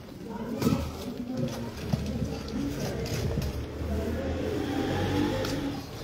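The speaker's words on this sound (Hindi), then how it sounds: "टैडी कबूतर बड़ा शानदार है, बहुत अच्छा कबूतर है टैडी" Pigeons coo softly nearby amid rustling and faint background noise, with a few low throaty calls scattered across the stretch.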